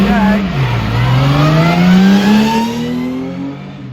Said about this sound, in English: That is a Sterling Moss factory race car originally.